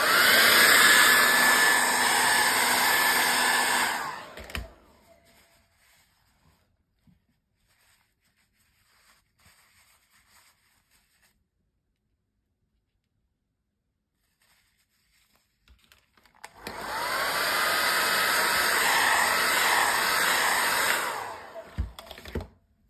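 A hand-held hair dryer blows over a wet watercolor painting in two steady whirring bursts, a few seconds each, separated by a long near-silent pause.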